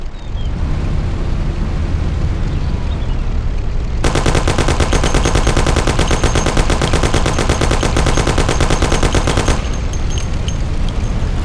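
A Thompson submachine gun fires a long, sustained burst during a car chase in the 2002 game Mafia, loud and continuous over a rumbling engine, then cuts off abruptly.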